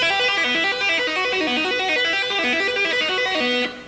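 A tapped lick played on the second string of an electric guitar, a fast repeating cascade of clean sustained notes cycling in a steady pattern, loud and alone before cutting off abruptly near the end.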